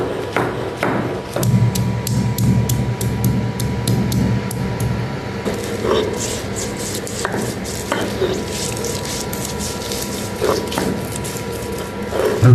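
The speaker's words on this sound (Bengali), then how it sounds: "তো আদা রসুন একসাথে বেটে নেই" Ginger and garlic ground by hand with fresh spices on a stone, a steady close rhythmic pounding and scraping that continues throughout with no talk over it.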